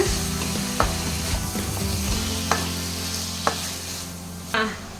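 Tomatoes with garlic cloves sauté in a pan for tomato kulambu, sizzling steadily while a spoon scrapes and knocks against the pan in a few sharp taps.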